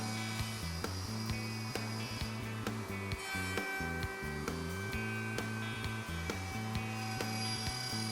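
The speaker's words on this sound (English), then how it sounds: "Then the pins and tails are routed simultaneously." A router on a Leigh RTJ400 router table dovetail jig cuts half-blind dovetail pins and tails in wood with a steady, loud, high-pitched motor whine, its pitch dipping and rising as the bit bites into each template opening.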